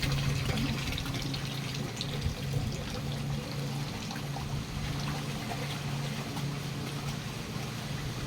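A goose bathes in a basin of water, giving a steady, continuous splashing and sloshing close by over a low background hum, with no talk.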